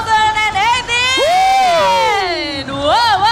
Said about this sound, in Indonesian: Saya minta tepuk tangannya G-Expo!